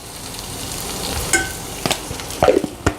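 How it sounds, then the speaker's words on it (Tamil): Ivy gourd (kovakkai) sautés in a pan with salt, giving a steady soft sizzle broken by a few clinks and scrapes of stirring. "இப்போ பாருங்கள், இந்த கோவக்காய் நல்லா வதங்கிக்கிட்டு இருக்கு"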